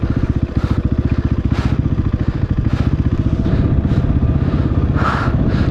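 Motorcycle engine labouring under load while climbing a hill road in Nepal, a loud, steady, rapid chugging throb close by, running continuously throughout with no talk.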